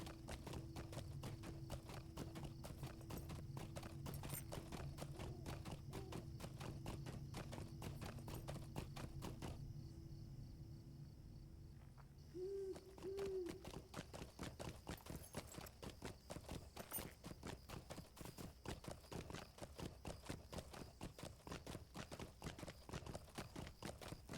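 Horse hooves clip-clop at a steady rhythm as a mount crosses a bridge in Lord of the Rings Online, close and regular, with a brief pause partway through before the hoofbeats resume.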